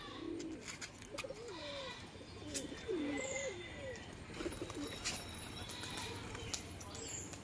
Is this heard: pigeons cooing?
yes